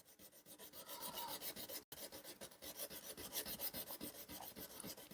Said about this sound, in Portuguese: com essa quina que eu fiz aqui, eu vou lixar o traste na lateral dele